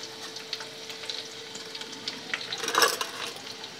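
Crushed garlic cloves and red chilies fry in hot oil with a continuous close sizzle. A louder spitting burst rises near the end. No one speaks.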